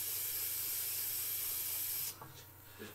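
Steady hiss of aerosol spray paint applied over a stencil, a continuous close spray lasting about two seconds before cutting off, leaving faint handling noises.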